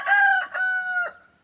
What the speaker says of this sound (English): rooster crowing in the background